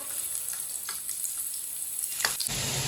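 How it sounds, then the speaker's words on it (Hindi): Garlic sizzles steadily in hot oil in a pan, lightly browning, a close crackling hiss with a few brief scraping stirs. "लहसुन को ना थोड़ा सा पका लेते हैं। इसे हल्का सा ब्राउन कर लेंगे लहसुन को।"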